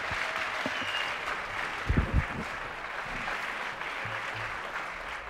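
A television studio audience applauds steadily for several seconds, with a few low thumps and brief murmurs under the clapping.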